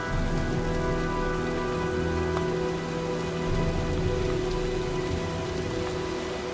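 Steady, dense rain pattering on surfaces during a storm in the game Heavy Rain, a continuous close hiss with faint low rumble beneath and a few sharper drips, no voices.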